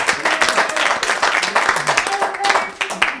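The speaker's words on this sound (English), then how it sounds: "round of applause for that" An audience at a folk festival memorial tribute in Anchorage claps in a lively round of applause, dense and fairly loud, with voices mixed in among the claps.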